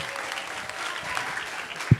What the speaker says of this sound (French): applaudissez pour ce beau film